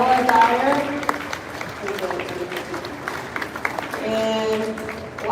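An audience claps for a seventh-grade band at a Halloween school concert, with scattered applause and musical tones from instruments heard over it.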